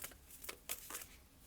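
Tarot cards being shuffled and drawn: a few quick, close papery riffles and flicks in short bursts, quiet and alone without talk.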